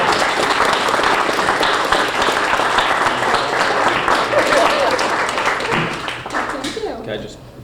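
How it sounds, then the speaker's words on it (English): A room of guests at a Rotary installation gives a round of applause for a new Paul Harris Fellow, loud steady clapping that gradually thins and fades out toward the end. "please join me once more in giving a round of applause to our newest Paul Harris Fellow"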